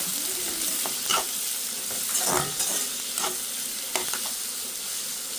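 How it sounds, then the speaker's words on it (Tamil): Onion and green chilli sauté in hot oil in a pan, giving a continuous soft sizzle with occasional scraping stirs of a utensil, close and fairly quiet, with no voices. "நல்லா எண்ணெயிலே வதங்க"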